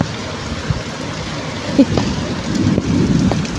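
Heavy rain roars steadily with gusty wind rushing over it, a couple of knocks and rattles standing out near the middle.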